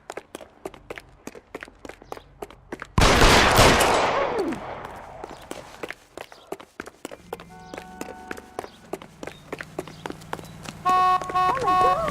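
Gunfire in the video game L.A. Noire: a loud burst of shots, with sharp rhythmic clicks and footsteps before and after it and a few game sounds near the end.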